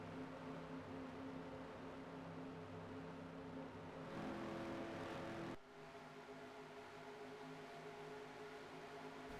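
Race car engines drone steadily in NASCAR Racing 2003 as a pack of cars runs down a beach stretch, a continuous layered whir with a brief swell and a sudden drop in level partway through, no talk over it.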